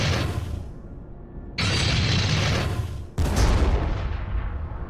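Heavy gunfire pounds a tarantula turret in Warhammer 40000 Armageddon, playing as the Orks, in three loud booming bursts separated by short pauses.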